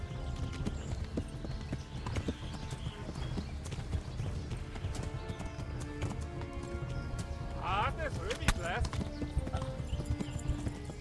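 Horse hooves clip-clopping at a gallop in the medieval video game Kingdom Come: Deliverance, a steady rhythmic beat under game music and someone talking, with a brief whinny-like sound near the end.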